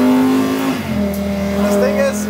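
An ABT XGT sports car drives and accelerates, its engine note droning loud and close then rising in pitch as it pulls away, with tonal harmonics throughout.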